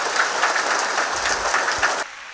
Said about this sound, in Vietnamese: các con cho sơ một tràng vỗ tay đi